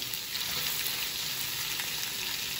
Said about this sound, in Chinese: 起锅烧油，油热后加入洋葱，稍微翻炒一下